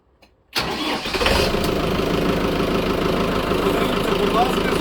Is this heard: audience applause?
no